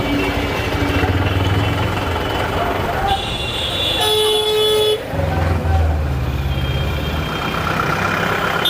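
A bus on a busy Kolkata street blasts its horn in one sustained, loud, blaring toot lasting about a second, amid idling engines and street bustle, while people talk nearby.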